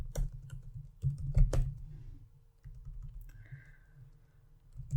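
Someone types on a computer keyboard while entering a Power BI formula: a close run of quick key clicks in bursts, then a quieter pause and a few scattered taps, with no voices.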